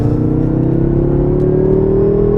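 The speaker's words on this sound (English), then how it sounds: "Hit it on manual mode, downshift to 3rd gear right here, and then just floor it." A stock BMW E90 335i in manual mode drops to third gear and goes to full throttle, its engine note climbing steadily in a loud, continuous in-cabin drone with no talking.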